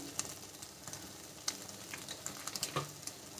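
Mutton sautés with garam masala in a pan for mutton kothu parotta, giving a steady close sizzle broken by small crackles and the scrape of stirring, with no voices.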